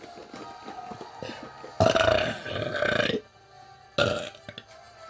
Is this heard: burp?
yes